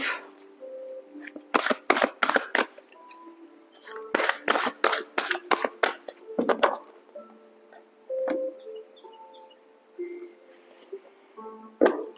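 A tarot card deck being shuffled and cut, with two quick bursts of riffling card flutters followed by a few softer taps and slides, close and fairly loud with no talking.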